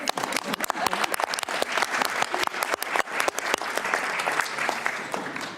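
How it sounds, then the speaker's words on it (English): Delegates at an executive board session applaud after a decision is adopted, a dense, close patter of many hands clapping that holds steady and then begins to thin out. "That's only a minor clap."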